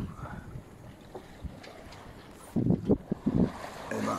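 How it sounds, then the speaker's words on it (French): Wind buffets a sailboat under sail off the coast near La Ciotat, with gusty rumbling and low splashing washing past, louder surges toward the end. "il y a un peu de vent, donc on est bien évidemment sous voile"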